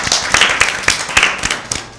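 Audience clapping for a winning team at a Lent season Bible quiz, a brief burst of close, sharp claps from a small group, uneven in rhythm and lasting about two seconds.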